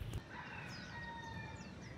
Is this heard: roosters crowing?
yes